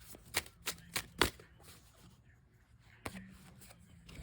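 Tarot cards being shuffled and drawn make a handful of sharp, close flicks and snaps in quick succession, then a pause and a single further snap.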